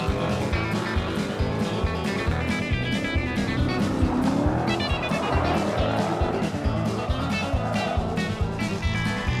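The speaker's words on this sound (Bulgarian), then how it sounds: "Даваш газ, почва да буксува." A Dodge Challenger Scat Pack Widebody spins its tires under throttle. A loud, sustained engine roar is mixed with squealing rubber, steady and close for the whole stretch.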